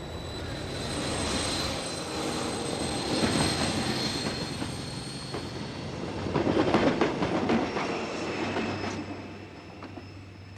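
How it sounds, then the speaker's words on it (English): A train departs a station, a heavy rumbling engine drone building in waves with rattling wagon noise and a faint high whine, steady and moderately close with no voices. "The train departed without him."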